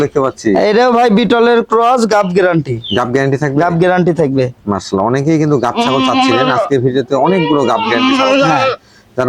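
Goats bleating loudly and repeatedly at a crowded goat market fair where pregnant goats are sold, overlapping cries close by with people talking among them.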